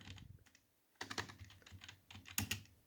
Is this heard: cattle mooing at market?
no